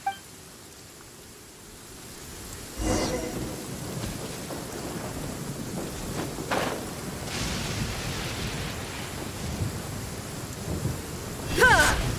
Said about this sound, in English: thunder drowns out all others